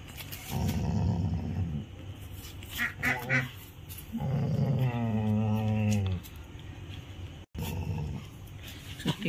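An aggressive Rottweiler growls and snarls up close in two long, deep, rumbling bursts separated by short pauses, with some quieter rough grumbling between them.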